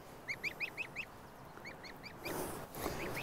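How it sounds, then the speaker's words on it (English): A young kitchen-raised goose honks in a garden, two quick bursts of short, nasal honks close by, then a rustling, noisier stretch with a few more faint honks. "So this is our little kitchen-raised goose."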